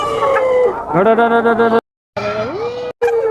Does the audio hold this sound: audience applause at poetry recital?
no